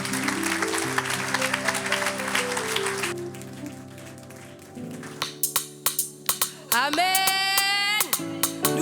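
Church congregation at an Easter service clapping in rhythm alongside loud music, a run of sharp distinct claps near the middle, then singing voices and instruments take over.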